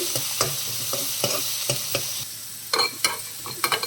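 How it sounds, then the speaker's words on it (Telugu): Onions fry in a pan with cumin, urad dal and green chillies under a steady close sizzle, with repeated rhythmic scrapes and stirs of a spoon against the pan. "కొంచెం మినపప్పు, ఆనియన్స్, మిర్చి వేసేసుకుందాం. ఒక 5 మినిట్స్ మగ్గాలండి ఉల్లిపాయలు."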